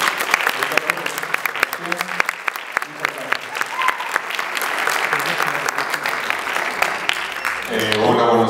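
Audience applause at a university fashion photography talk, a sustained burst of crowd clapping with individual sharp claps audible throughout, and a voice starting to speak over it near the end.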